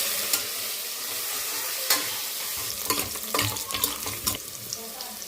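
Green chillies and curry leaves frying in hot oil for a pressure-cooker chicken curry, a constant close sizzle with quick stirring scrapes and clinks growing busier toward the end.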